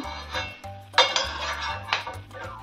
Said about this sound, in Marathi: तर मी इथं या वाटीमध्ये हे काढून घेणार आहे थोडे थंड होण्यासाठी.